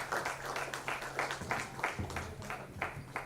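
A crowd at the Maharashtra Icon of the Year Award 2018 ceremony claps in loose unison, with a steady beat of strong hand-claps about twice a second and no speech over it.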